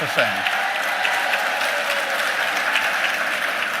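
A crowd at a Speech from the Throne breaks into sustained applause with cheering, a loud dense wash of clapping that carries on throughout.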